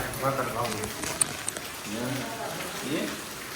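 Steady overnight monsoon rain keeps falling at a hillside farm near Shakhpur, a broad hiss under frequent nearby talk with a few sharp drip-like ticks.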